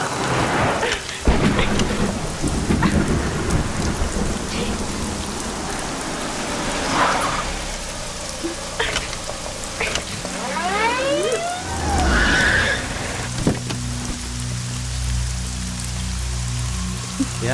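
Heavy rain pours steadily with loud, close rumbles and cracks of thunder rolling through a thunderstorm, a dense wash of downpour persisting throughout without any voices.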